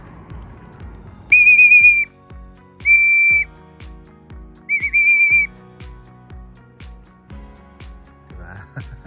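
A pigeon keeper's whistle blown to call racing pigeons in for feeding, three loud shrill blasts of roughly half a second to a second each, with a person talking quietly between and after them.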